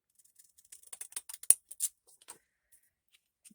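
Scissors snip through a paper tag in a quick series of sharp, close cuts, several fast crisp clicks clustered together before trailing off into quiet.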